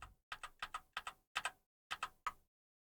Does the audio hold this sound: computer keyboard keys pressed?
yes